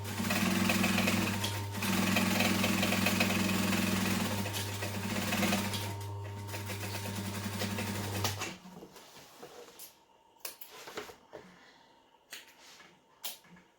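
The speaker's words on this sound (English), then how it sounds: "This machine's got a size 19 needle in it, and I have still snapped it from going too fast on thick parts before." A sewing machine fitted with a size 19 needle stitches thick tote bag parts, a loud steady motor whir and rapid needle rhythm lasting about eight seconds before stopping, followed by quiet clicks and handling.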